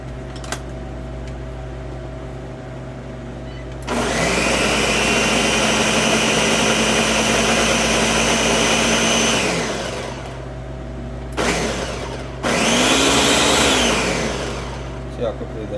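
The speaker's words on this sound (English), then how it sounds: "I'm gonna get the blender." A countertop blender grinds freeze-dried farm-fresh eggs into powder in two loud, steady runs separated by a brief pause, the motor whirring with a rising and falling pitch at each start and stop.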